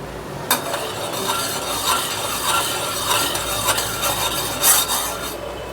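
Strawberry sauce with sugar being stirred in a pan, a steady rasping scrape of the spoon against the pan bottom with soft bubbling, continuous and close, with brief louder clinks.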